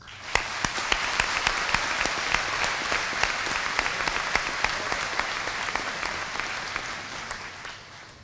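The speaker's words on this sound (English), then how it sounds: "Please join me in welcoming them with a round of applause" Sustained applause from a high school commencement audience welcoming the class of 1968, a thick, steady roar of many hands with a few sharp individual claps standing out, easing slightly near the end.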